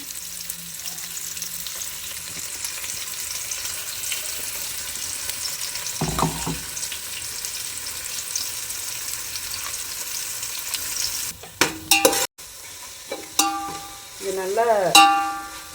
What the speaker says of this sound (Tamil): அதை போட்டு லைட்டாக எண்ணெய் கசிஞ்சு வர்ற அளவுக்கு வதக்கிக்கலாம்